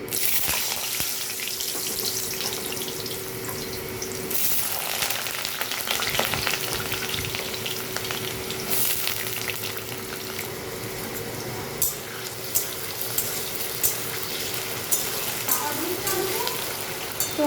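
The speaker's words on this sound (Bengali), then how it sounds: "কড়াইতে সর্ষের তেল দিয়েছি তেলটা গরম হয়ে গেছে তো আলুগুলো ভেজে নিচ্ছি" Diced potatoes fry in hot mustard oil in a wok, giving a steady bubbling sizzle with occasional stirring scrapes and clinks, under a quiet kitchen background throughout.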